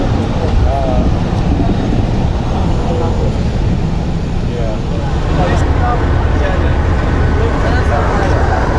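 Khushhal Khan Khatak Express train standing at Pabbi railway station, a steady low rumble and broadband platform noise running throughout, with people talking over it.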